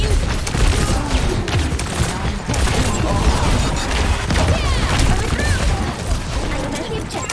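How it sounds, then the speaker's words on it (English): Overwatch Rocket Barrage ultimate unleashes a dense, continuous roar of rockets firing and exploding for several seconds, loud and close, with rumbling booms and a busy mechanical clatter throughout. "Rocket barrage!"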